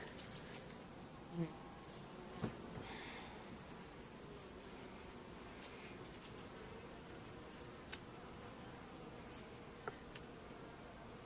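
Caucasian and Carniolan honeybees at a hive prepared for winter make a soft, steady buzzing hum, faint and continuous, broken by a few small clicks.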